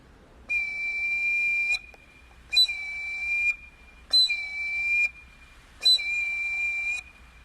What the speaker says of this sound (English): The eagle whistle sounds like this.